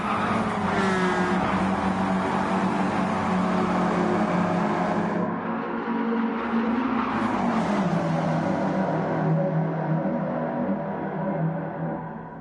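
Stock cars race at Daytona in Gran Turismo 7, a loud, sustained chorus of roaring engines that shifts pitch as cars pass and close up, with tire noise in the mix.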